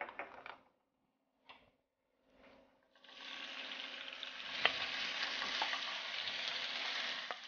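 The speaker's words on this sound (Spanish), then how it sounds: "Vamos a sellar nuestra carne" Starts with a few faint scrapes and gaps, then minced marinated meat hits hot oil in a pan and a steady, close sizzle builds and holds, with an occasional clack from a utensil. No one speaks.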